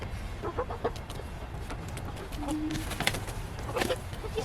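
Backyard chickens cluck softly and intermittently over a low, rumbling outdoor background, with short scattered calls rising here and there at moderate distance and no voices.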